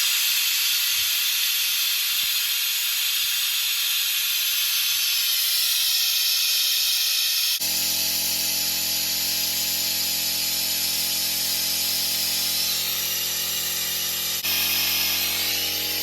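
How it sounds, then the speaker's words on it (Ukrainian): Air hisses steadily from a loosened brake bleeder nipple on a Jeep Grand Cherokee 2.7 during a brake fluid change. The broad hiss is loud and continuous, shifting tone partway through, and no one speaks. "Якщо відкрутити занадто сильно, то повітря йде багато, йде як підсос це повітря і з ним йде і тормозна."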